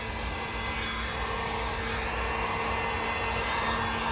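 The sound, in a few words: heat gun blowing on resin coaster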